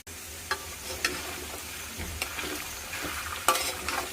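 Sliced potatoes with chili powder being stirred in a pan, soft sizzling under light intermittent scrapes and taps of the spatula.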